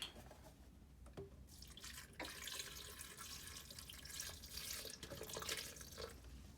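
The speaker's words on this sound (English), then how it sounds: "Now I'm adding oat milk in, but you can add any milk that you usually use." Oat milk pours in a faint, steady liquid stream, trickling and splashing softly into a container at close range with no talking.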